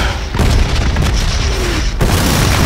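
A bomb goes off in a video game as a loud, dense, rumbling boom that fills the sound continuously, with a brief dip and then another heavy surge of blast noise.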